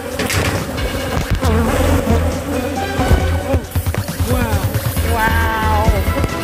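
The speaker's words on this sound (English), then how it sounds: "You got bees around your net." Bees buzz close around a net, a wavering insect drone rising and falling in pitch over a busy background, with voices and other sounds mixed in.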